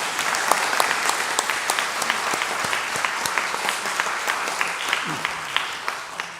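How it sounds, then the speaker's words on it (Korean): A church congregation applauds during a Sunday worship service, steady dense clapping from many hands that holds evenly throughout, filling the room with a continuous patter. "우리 감사의 마음을 담아서 한번 박수하겠습니다"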